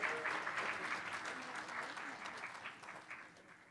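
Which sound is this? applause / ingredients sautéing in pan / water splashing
applause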